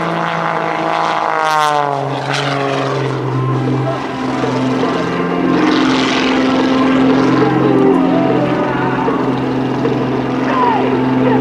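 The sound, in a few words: Pitts S2B aerobatic plane performing airshow maneuver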